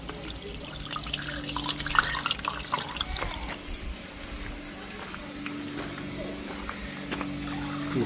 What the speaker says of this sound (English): make sure we got some water flowing, which we do.